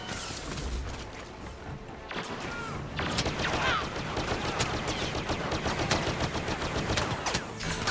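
Dense, continuous blaster and gunfire in a Star Wars Battlefront video game, rapid overlapping shots and impacts forming a loud, busy battle din, with a voice speaking faintly beneath it.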